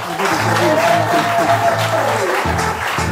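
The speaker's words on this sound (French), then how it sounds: "On applaudit pour eux." Guests applaud the bride and groom at a civil wedding in a town hall, loud continuous clapping from a crowd layered over steady background music and some voices.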